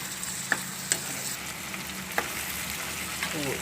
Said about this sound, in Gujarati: તો આપણે સોળીને વટાણા બે તેલમાં સડવા દેશું